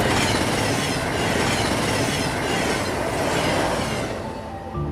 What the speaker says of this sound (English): This is Aberdeen's train station.